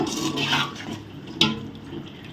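Soaked rice and its soaking water pour into a cooking pot for tomato rice, a steady gushing splash with one sharper plop partway through, close and fairly quiet with no talk.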